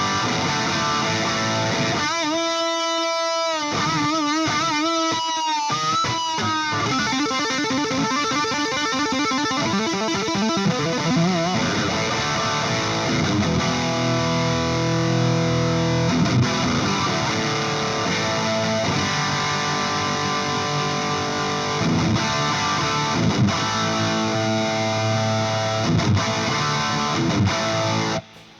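Distorted electric guitar through a Marshall DSL 100H amp plays loud, heavily saturated chords and riffs, opening with choppy stabs and short pauses before settling into sustained crunchy rhythm playing, with no talking.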